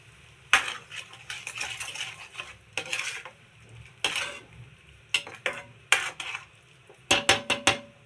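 Tamarind rice (pulihara) being mixed in a metal pot, with a spoon scraping and clinking against the sides in irregular bursts, close and moderately loud, with no talking.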